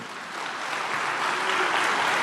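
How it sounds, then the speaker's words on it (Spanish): A church congregation applauds after a prayer, a dense, steady wash of clapping that swells slightly over two seconds, with no clear speech. "Dale aplauso al Señor"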